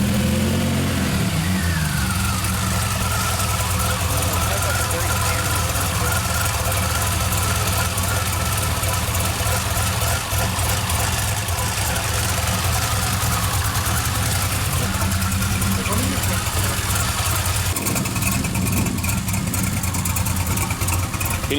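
A DeLorean fitted with a Stage 2 exhaust kit runs and revs, giving a loud, continuous mid-pitched engine drone with rising and falling revs and a sharper surge near the end.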